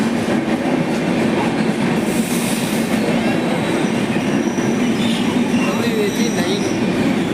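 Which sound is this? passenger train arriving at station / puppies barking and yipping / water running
passenger train arriving at station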